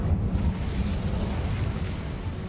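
The Incendio fire spell cast in the video game Hogwarts Legacy, heard as a dense, low rumbling whoosh of flame that holds steady for about two seconds, fairly loud, with no speech.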